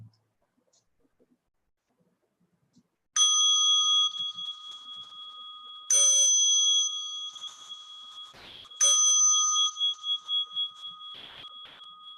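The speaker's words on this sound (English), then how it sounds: "as you listen to the bell" Meditation bell struck three times, each a bright, clear metallic strike that hangs and slowly fades in a quiet room, the last ring decaying in pulsing waves.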